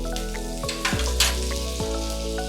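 Oil and butter sizzling in a hot pan, a loud continuous frying hiss up close, with a few utensil clicks and taps over a low steady hum.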